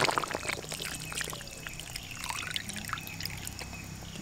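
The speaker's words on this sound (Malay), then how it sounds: "Kita masukkan santan kental." Thick coconut milk poured into a pot of opor ayam, a steady liquid pour and trickle heard close up and alone, moderately loud throughout.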